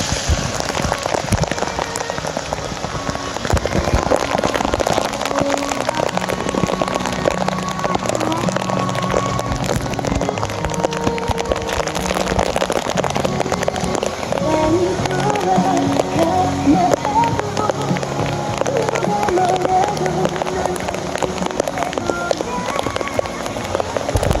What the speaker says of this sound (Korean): 소나기는 내리면서